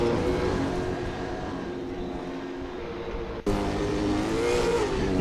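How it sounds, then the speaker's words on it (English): A Supercars race car in a sim-racing game at Pukekohe revs hard under steady engine drone, with a sharp jump in engine noise as it accelerates again partway through. "He accelerates just a bit too soon there and loses the rear end."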